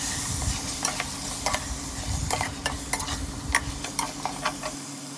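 A spoon scrapes and clinks around a pan of chicken mandi while food sizzles steadily underneath, close up and continuous, with no talking.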